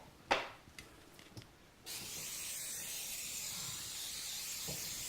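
Cooking spray hisses from a can in one steady, continuous burst that starts after a few faint knocks and rustles, close and moderately loud.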